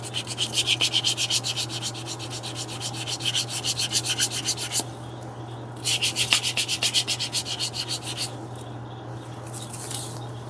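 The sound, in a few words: sanding leather edge with 400 grit sandpaper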